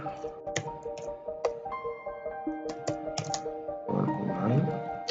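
Keyboard keys clicked while an email address is typed into a CorelDRAW flyer design, short scattered taps over steady background tones, with a voice present.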